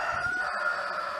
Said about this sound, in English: there's actually a rooster outside that just does that